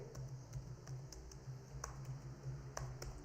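Typing on a computer keyboard while entering text into an Excel spreadsheet, a quiet scatter of soft key clicks at an uneven pace over a steady low hum.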